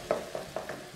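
Ground meat for spaghetti bolognese sizzling in a hot pan with a few soft stirring scrapes, brief and fairly quiet.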